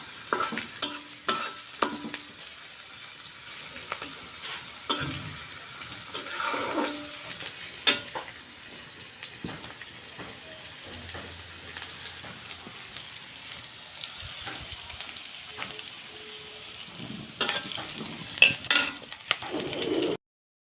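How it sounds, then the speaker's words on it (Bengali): Onions fry and get stirred in a pan while cooking a vegetable dish with dried shrimp, giving a steady soft sizzle broken by scraping and clinking stirs throughout, with no talking. "এখন পেঁয়াজগুলো ভাজা হয়েছে"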